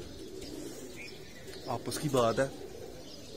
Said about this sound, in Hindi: माशाल्लाह बहुत प्यारे और महंगे कबूतर